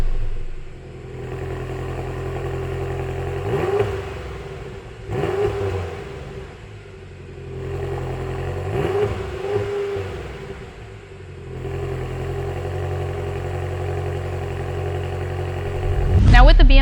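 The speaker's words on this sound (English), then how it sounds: "our favorite parts of these segments is doing a sound test" A BMW M6 engine revs in several bursts, each swelling briefly over a steady running drone before settling back, with a sharper rise at the very end; a voice talks over it.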